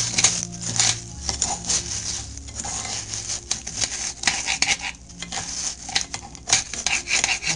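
Rice browning in a pan is stirred briskly, giving a busy, close scraping and rattling of grains against the metal over a steady sizzle, with irregular loud bursts of stirring.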